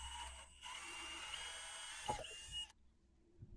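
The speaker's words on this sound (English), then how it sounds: "I'll drill a hole" Power drill boring a pilot hole into a butcher block wood countertop, a steady whirring bite for a couple of seconds that cuts off abruptly, then quiet.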